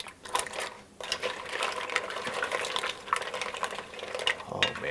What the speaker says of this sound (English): soft stir.